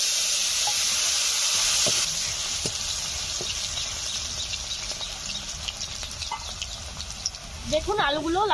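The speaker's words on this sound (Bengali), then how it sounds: "মাছ ভাজার তেলে আলু ভেজে নিচ্ছি।" Potatoes frying in leftover fish oil give a continuous sizzle with scraping stirs, and a rooster or hens cluck nearby near the end.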